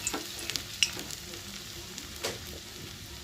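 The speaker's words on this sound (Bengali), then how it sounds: "এখন আমি একে একে একে একে পেঁয়াজিগুলো তেলের মধ্যে দিয়ে দেবো।" Onion fritters in gram-flour batter dropped one by one into hot oil in a kadai, giving a soft, steady sizzle and bubbling with a few faint clinks, heard alone without talk.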